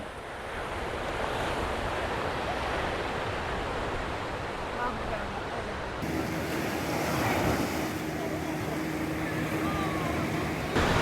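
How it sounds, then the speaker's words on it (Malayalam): Ocean surf at Kovalam beach rolls in continuously, a loud broad wash of breaking waves with wind buffeting the microphone throughout. "ഇപ്പോൾ എത്തിയിരിക്കുന്നത് കോവളം കടൽ തീരത്താണ്"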